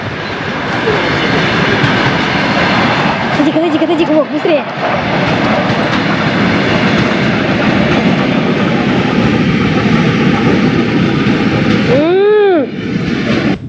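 A loud train rumbles past nearby in Kaliningrad, Russia, in 1996, a continuous roar with rattling, while people shout over it.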